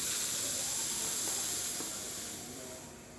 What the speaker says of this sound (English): just showing that the steam wand is working as expected